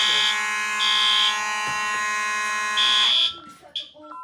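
A building fire alarm system sounds during a panel reset, a loud steady electronic tone pulsing in long bursts with a brighter high whoop, then cutting off abruptly near the end, leaving brief clatter and faint talk.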